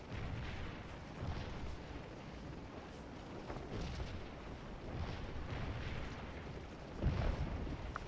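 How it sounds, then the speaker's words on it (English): Artillery fire in the Scourge of War video game, a continuous rumbling barrage of distant booms and bursts with a louder blast near the end, no talking. "The artillery fire is intense."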